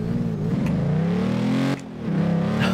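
Mercedes G-Class engine in the racing game Forza Horizon 2 revs hard and steadily, a loud throaty drone that dips briefly on a gear change before climbing again, with no talk over it.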